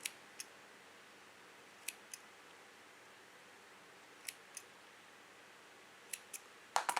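Scissors snipping the ends of a plug device make sharp, quiet clicks in pairs, spaced a couple of seconds apart against near silence, ending in a quick cluster of snips.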